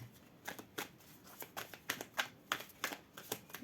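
Tarot cards being shuffled for a reading, with a rhythmic series of crisp riffling bursts, about a dozen in quick succession, close and fairly quiet, and no voice.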